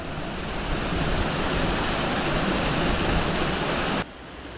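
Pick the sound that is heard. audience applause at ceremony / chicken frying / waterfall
waterfall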